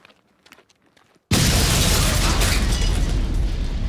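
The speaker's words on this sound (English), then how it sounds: "There's gonna be a really big bang." A big explosion in a 2002 heist thriller erupts suddenly after a quiet stretch of faint voices, a loud, sustained roaring blast with rumbling debris that fills the rest of the moment.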